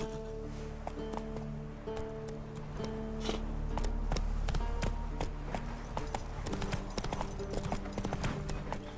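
Roach, the horse in The Witcher 3, gallops with steady rhythmic hoofbeats, close and clear, over a soft bed of game music.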